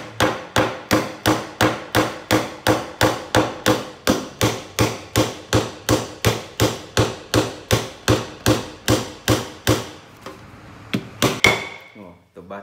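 A hammer strikes dented car sheet metal in a steady, rapid series of about thirty sharp blows, close and loud, ending in a few scattered knocks.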